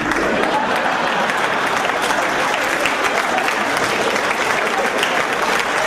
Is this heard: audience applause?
yes